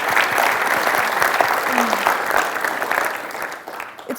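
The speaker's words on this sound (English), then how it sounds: "I want everyone to clap. Yeah? For yourself." Steady applause from a conference audience clapping for themselves, continuous and fairly loud, thinning slightly toward the end.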